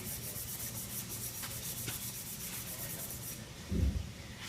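Fine 150–180 grit sandpaper rubbed over a car body, a steady close scratchy rasp of repeated strokes that runs throughout, with a brief duller thump near the end.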